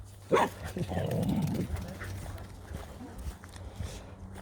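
A dog barks a few times at a moderate distance, with voices talking faintly in the background.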